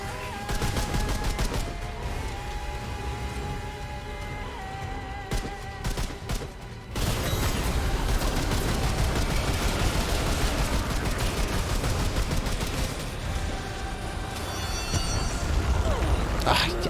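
Rapid gunfire from shooting in the video game Remnant 2, dense bursts of shots running almost continuously and growing heavier after a brief lull, loud and close under game sounds.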